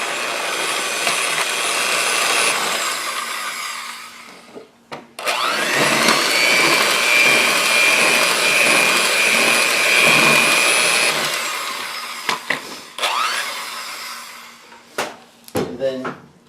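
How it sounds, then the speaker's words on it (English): An electric mixer whirs loudly while mixing homemade pizza dough, running in two long stretches broken by short pauses and clunks, with a person briefly talking in between. "You don't have to use one of these mixers, but I don't feel like stirring it for a half hour."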